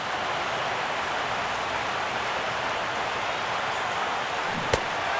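A stadium crowd roars in the MLB The Show baseball video game as the home fans stand with their team down to a final strike, a steady, dense wash of cheering that holds throughout.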